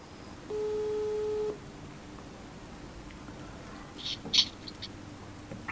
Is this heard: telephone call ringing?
yes